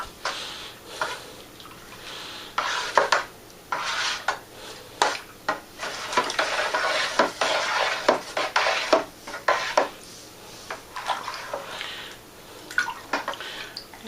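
Wine fermentation additives get stirred into a bucket, with repeated sloshing swirls of liquid and scraping knocks of the stirrer against the sides, coming in irregular bursts close by without talk.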